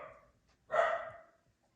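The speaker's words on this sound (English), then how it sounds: "Y'all excuse my dog." A dog gives one short, moderately loud bark indoors, somewhat distant, with a faint earlier yelp or vocal sound just before it and quiet afterward.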